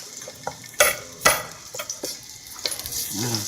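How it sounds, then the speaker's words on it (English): Garlic sizzling in fresh oil in a pan, a steady close frying hiss broken by sharp scraping and stirring knocks from a utensil against the pan. "I'll put some fresh oil because that's the oil that we will eat. Whack some garlic in there."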